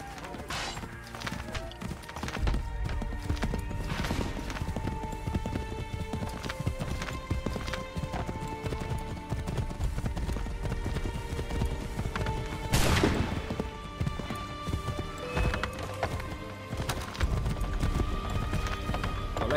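Horse hooves gallop steadily in Assassin's Creed III Remastered: loud, continuous clip-clop with occasional whinnies, a heavy crash near the middle and game music and effects underneath.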